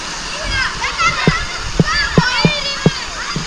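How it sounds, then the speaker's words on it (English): Water splashing and spraying at a water park splash area in Magaluf, a steady wash with rhythmic bursts, under children's voices and calls nearby. "So another lovely little splash area"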